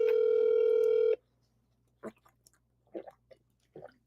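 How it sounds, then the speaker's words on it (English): A telephone dial tone sounds steadily for about a second while a phone number is called, then cuts off, followed by a few short, faint clicks or tones in quiet. "So I'm calling my main number right now."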